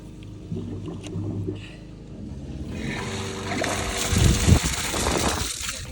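A water pump (abyssinian well pump by a river) runs with a low mechanical hum, then water rushes and gushes out noisily as the flow starts, with a brief voice early on.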